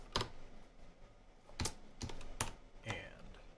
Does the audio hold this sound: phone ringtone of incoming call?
no